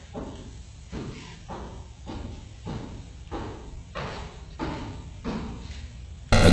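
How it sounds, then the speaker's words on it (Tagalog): Knocking on a door from a paranormal clip, a steady series of about nine dull, evenly spaced thuds in a muffled room, alone without talking. "nagsisimula ito sa isang katok"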